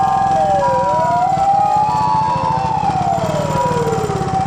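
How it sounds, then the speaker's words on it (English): A loud ambulance siren in Tokyo wails up and down, with overlapping pitch sweeps as it passes close by over a rumbling engine. "here comes an ambulance"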